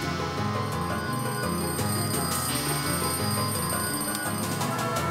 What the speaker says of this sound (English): That's a beautifully rendered alarm. Apart from the hammer going through the bells